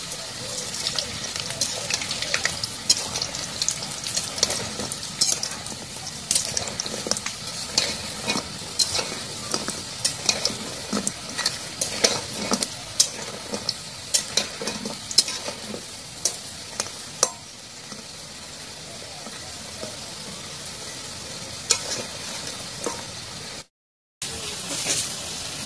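Khaja dough pieces fry in hot oil in a village kitchen with a continuous crackling sizzle. Frequent sharp scraping and clinking from stirring sit over the sizzle throughout.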